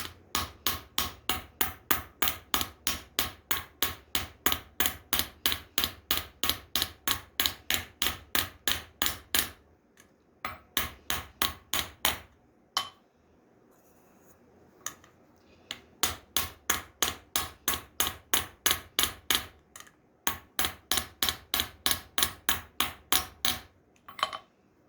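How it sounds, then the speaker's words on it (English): A small cross peen hammer strikes a copper ladle spout in long runs of quick, evenly spaced metallic taps, close and crisp. The runs are broken by short pauses. "I've got my little cross peen I'm using to work that spout in."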